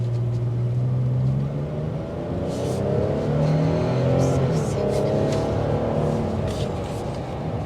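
A 2023 Nissan Frontier Pro-X pickup truck engine revs and accelerates with a rising, sweeping drone, loud and close, and the pitch climbs as the speed builds.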